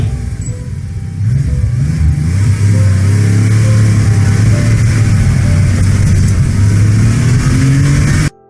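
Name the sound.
car engine revving and shifting gears in played video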